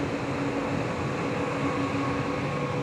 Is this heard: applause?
no